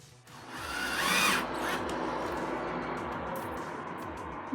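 A power drill drives screws into bookshelf brackets, with a steady whirring whine that rises at the start and holds near and loud throughout.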